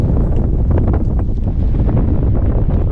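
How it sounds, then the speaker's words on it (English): Strong wind buffets the microphone on a mountain hike, a loud, constant low roar with gusty rumbling and no other sounds. "The wind is pushing me towards that side."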